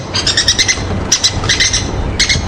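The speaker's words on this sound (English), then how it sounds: "it's the cuckoos who are making the most noise" Loud, busy cuckoo calls repeating in quick rhythmic bursts, several birds calling over one another at close range without pause, on a safari drive.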